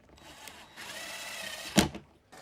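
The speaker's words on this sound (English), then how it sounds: "Now I'm just going to throw some screws into the top of this res" A cordless drill drives screws into the top of a hydroponic reservoir for a vertical round pipe system, a quiet whine lasting about a second and ending in a sharp clack, with another faint start afterward.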